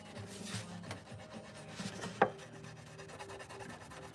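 Fine 2000-grit sandpaper rubs back and forth over a guitar's frets in a quiet, close, soft rasping polish, with one brief sharper scrape midway.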